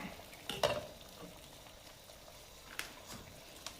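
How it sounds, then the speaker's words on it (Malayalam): Water simmering in a steamer pot for a steamed banana rava snack, a steady soft bubbling hiss throughout with a couple of brief clinks near the start. "സ്റ്റീമറിൽ വെള്ളം തിളച്ച് കിടക്കുവാണ്"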